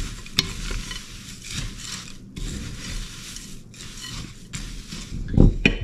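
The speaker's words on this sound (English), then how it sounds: "Let's give this a good stir." Dry ingredients with coconut and flax seeds being stirred in a bowl, a steady rustling scrape running throughout with a brief louder clatter near the end; no talking.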